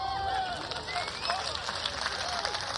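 Audience at an outdoor park comedy show claps in a steady, moderately loud patter, with crowd murmur and speech noise mixed in.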